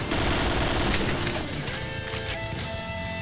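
Dense, continuous gunfire in the shooter game PUBG, a loud rattling fusillade of rapid shots running the whole time with no pause.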